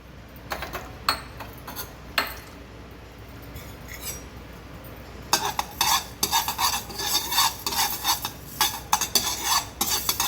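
Fenugreek seeds roasting dry in a pan, a spoon scraping and stirring in sparse strokes at first, then busier, rattling, sizzling stirs crowding the second half; no speech.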